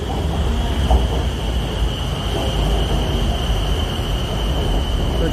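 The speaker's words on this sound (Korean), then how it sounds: "기차가 왔습니다. 기차 타고 갈게요." A train pulling into a station in Thailand, a continuous loud rumbling roar with a faint steady high whine on top, heard up close with no talking.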